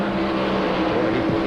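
NASCAR stock cars roar loudly at the start of a race at Suzuka, with a dense, steady engine drone filling the whole moment and no other sound standing out.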